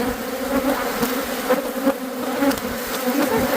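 A dense swarm of bees buzzes loudly and continuously, a close, steady droning hum with no talking.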